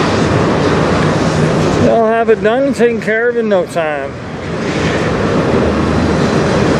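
CN freight train cars rolling past as a steady broadband rumble and rush, with someone talking briefly over the middle of the passing noise.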